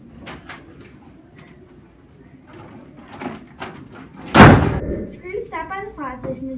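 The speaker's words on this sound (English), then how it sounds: "he heard the door fly open and the rattling of chains" A door flying open as a sound effect in an audio story, one loud sudden bang standing out after quieter knocks and rustles, with a voice speaking around it.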